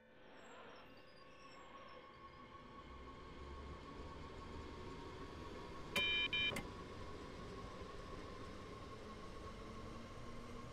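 A train in Train Sim World 3 rolling into Köln Hauptbahnhof on the S 19: a steady low rumble of wheels and motors with a faint whine, broken around the middle by two short electronic beep tones.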